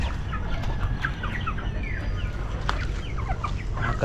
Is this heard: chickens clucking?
yes